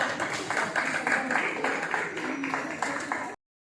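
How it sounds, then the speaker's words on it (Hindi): Applause for a guest at a Hindi book launch event, a steady patter of many hands clapping in a hall for a few seconds before cutting off abruptly. "आपके लिए बहुत जोर से तालियां"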